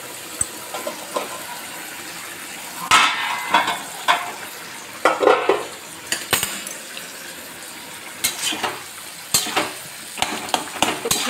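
Food fries in a pan under a constant sizzle, broken by intermittent sharp scrapes and clatters of a utensil stirring against the metal, close and with no talking.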